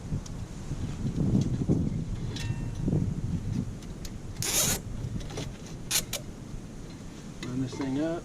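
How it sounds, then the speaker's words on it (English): A zip tie is ratcheted tight around the brake caliper of a 2014 Toyota Camry during a front brake and rotor job, giving a few short, sharp zipping rasps over low rustling and workshop noise. "And we're going to take our zip tie,"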